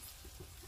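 Coriander and cumin seeds with black pepper frying in a pan for Mangalore-style dry mutton sukka, a faint steady crackle and low sizzle throughout with no voices.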